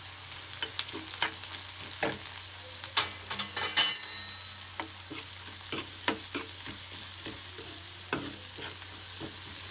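Peanuts and dal are tipped into a hot pan with semolina and turmeric and stirred, giving a soft, continuous sizzle broken by scattered crisp clicks and rattles of nuts and the spoon against the pan.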